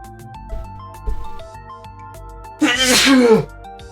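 A single loud, close sneeze in the video game Scarlet Hollow bursts out over quiet background music and a few faint clicks.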